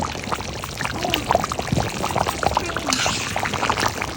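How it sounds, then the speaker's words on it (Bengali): Fried potatoes tipped into a cooking pot on a clay stove, giving a rattling, pouring tumble with sizzling clatter, close and fairly loud, with no voices. "এবার ভেজে রাখা আলুগুলো দিয়ে দেওয়া হলো"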